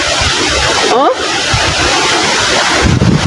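Strong, steady wind roars and buffets the microphone on an island, with brief voices breaking through the rushing noise.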